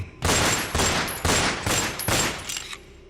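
A gunshot sound effect in a spoken ghost story: about six sharp, loud shots fired in a rapid, uneven burst, each one ringing briefly before the next.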